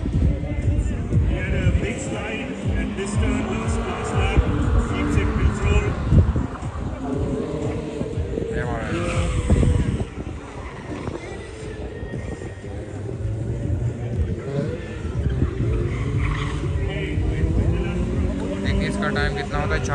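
An autocross car races around the Karachi track, its engine roaring steadily and loudly through a busy outdoor crowd din, while people talk throughout.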